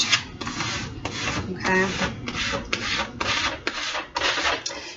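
A vinyl wall decal is rubbed and smoothed onto a surface with a card, a close, steady series of dry scraping strokes in a regular back-and-forth rhythm, with a brief spoken word.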